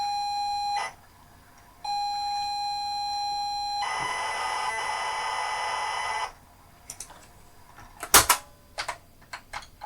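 A ZX Spectrum +2 loading from tape sends out steady pilot tones, broken by a short pause, then a harsh buzzing data burst, followed by a few scattered clicks and knocks.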